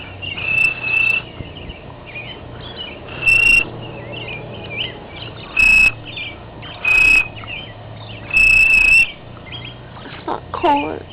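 Cricket whistle call at around 4 or 5 in the morning, bursts of shrill chirping whistles repeated at irregular intervals over a faint steady insect background, loud and close.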